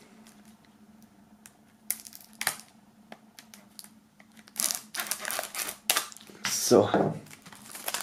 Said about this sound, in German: Nachdem das Ganze noch eingeschweißt ist, werden wir das mal öffnen.